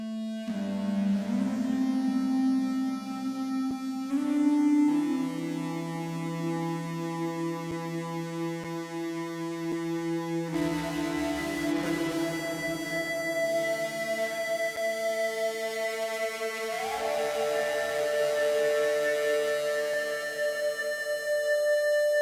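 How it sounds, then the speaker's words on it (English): Sustained, singing guitar tones from an EBow vibrating the string swell and glide smoothly with heavy distortion, long drones shifting pitch gradually, with no picked attack and no talking. "an EBow is, if you're not familiar, it's a small handheld device that vibrates a guitar string"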